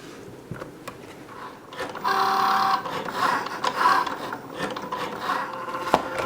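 A Cricut Joy cutting machine whirs and buzzes as its blade cuts out a paper spider web, with a steady motor tone and intermittent clicks and shuffles of the mat, fairly close with no speech.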